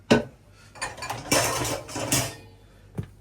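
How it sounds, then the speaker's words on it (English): A wet spoon scrapes and taps against a pot or dish while smoothing homemade fudge, giving several close, irregular metallic clinks and scrapes, with a sharper tap at the start and another near the end, and no talk. "you're going to use a wet spoon to smooth it"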